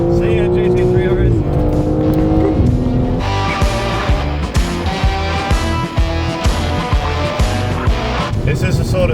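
A BMW M3 Touring at full throttle in a road rally, chasing and overtaking a Porsche GT3 RS, with a loud, continuous engine roar and rapid gear changes, heard from inside the car while occupants talk over it.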